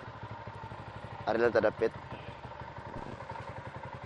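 A BMW motorcycle engine running with a steady low pulsing thrum and some clatter throughout, while someone talks briefly over it in the middle.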